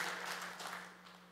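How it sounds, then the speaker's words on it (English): A church congregation clapping their hands during a service, a dense wash of applause from many people that fades gradually over its short span. "Somebody clap their hands."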